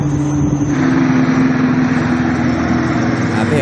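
Chinese Navy hovercraft engine, a loud, steady high-pitched engine drone with a persistent whine, continuous and close.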